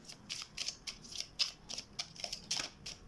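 Cards drawn one at a time from a 32-card deck for a reading, giving a quick run of about a dozen crisp, close slides and snaps in a steady rhythm, with no voices.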